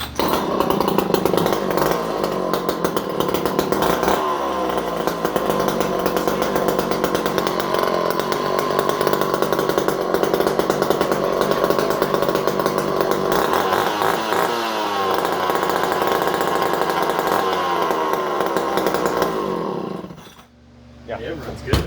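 A chainsaw runs loud and close in a shop, a steady buzzing roar with slight revving fluctuations for about twenty seconds before cutting out abruptly near the end.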